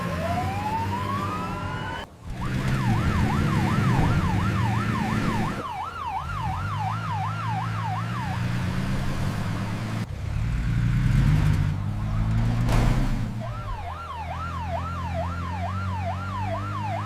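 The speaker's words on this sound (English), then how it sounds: "We need an ambulance right away." Wailing ambulance siren for a LEGO City rescue scene, loud and close, with repeated rising-falling bursts interrupted by short breaks and heavy rumbling engine noise underneath.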